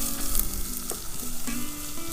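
Onion frying in a pan over a camp stove, a close, steady sizzle with a few soft scrapes from stirring.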